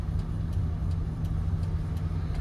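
A car rolling in second gear with the clutch fully pressed and no braking, slowing by itself to a stop: a steady low engine and road rumble runs throughout at an even level, with no one talking.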